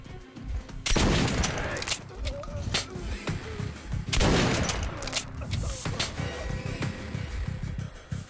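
Gunfire in the post-apocalyptic shooter game Metro Last Light, repeated heavy bursts of shots and booming impacts spread across the moment, loud and near, with quieter rattling and mechanical clicks between the volleys and some talk mixed in.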